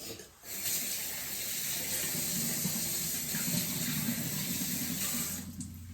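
Tap water runs steadily into a sink during handwashing in a home kitchen, a continuous close hiss and splash with no talking.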